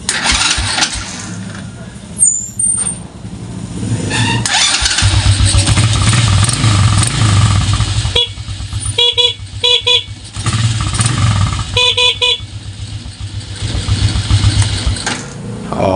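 A motorcycle fitted with a Domino Honeywell push-start switch cranks and starts, then idles loudly and steadily with brief horn beeps sounding in between.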